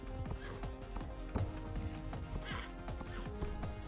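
Horse hooves clip-clop in a steady walking rhythm over a bed of game music in the Star Stable video game, with a brief whinny rising among the footfalls; the sound is moderately loud and continuous.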